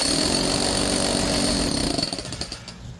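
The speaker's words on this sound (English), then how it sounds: "it's surprising that the much more powerful hammer, maybe not so surprising, makes so much more progress" A Vevor SDS-Max 10-joule rotary hammer pounds into wood with a loud, rapid hammering rattle up close, then slows and fades as it stops near the end.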